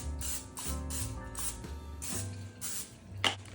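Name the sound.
spraying cooking oil into glass dish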